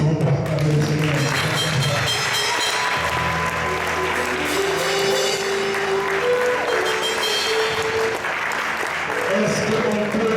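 Congregation at a church seminary and ordination service applauding loudly to acclaim the Lord, a dense, sustained wash of clapping with voices and music mixed in throughout.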